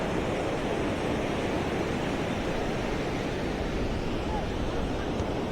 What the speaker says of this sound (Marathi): हे बघा एखाद लाट येते जी इथपर्यंत पोचते बघा.